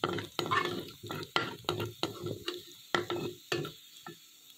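Chopped garlic sautés lightly in a pan for chicken shashlik with fried rice: a spatula scrapes and taps in an uneven rhythm over a faint, close sizzle.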